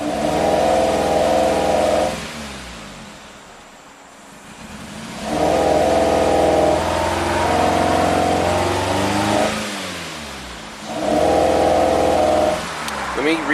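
The engine of a 2008 Suzuki SX4 with a low-power fault and a misfire runs loud and close, its revs rising to a steady drone near 2,000 RPM, dropping away, then climbing again in repeated cycles.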